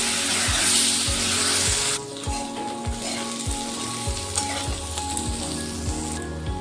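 Potatoes and Gobindobhog rice frying in a pan, a steady bright sizzle close up with a spatula scraping the pan in regular rhythmic strokes, and no talk.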